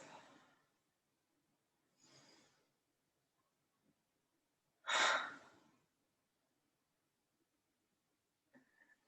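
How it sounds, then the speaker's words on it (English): Guided pranayama breathing, in through the nose and out through the mouth: a few soft, close breaths spaced apart, with one louder, fuller exhale in the middle and a short breath at the end, no talking. "We're going to go back to breathing in through our nose,"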